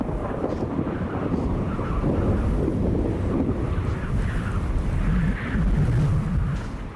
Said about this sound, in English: Got a few gusts of wind coming over now